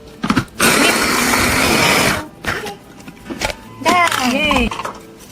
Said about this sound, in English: How many Oreo will be putting into the blender?